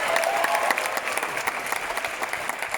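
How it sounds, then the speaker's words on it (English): An audience at a film screening applauds, a steady patter of many hands clapping at moderate volume with no talking over it. "Give yourselves applause."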